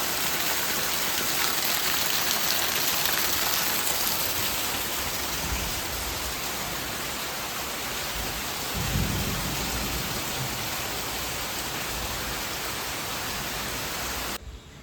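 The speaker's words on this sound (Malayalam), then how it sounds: "ഇപ്പം നല്ല മഴ പെയ്യുന്നു. ഭയങ്കര മഴ, ഇടിച്ചു കുത്തി മഴ" Heavy monsoon rain pours steadily at a Kerala home, a dense hiss that runs throughout, with a low thunder rumble rolling in partway through.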